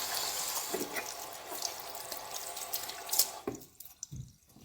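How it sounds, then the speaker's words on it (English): Hands are washed under a running tap, with quiet splashing water and faint drips that are soft and close, stopping near the end. "Let me wash my hands."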